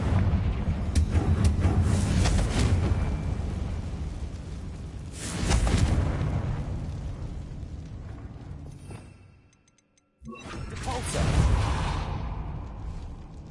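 Fiery spell blasts from a fantasy wizarding action game, a couple of loud roaring bursts with long whooshing decays, separated by a brief near-silent gap before another blast swells up.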